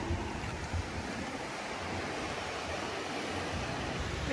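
Sea waves wash steadily against the Mindanao coast in the Philippines, a constant broad surf roar mixed with gusting wind buffeting the microphone, with no voices.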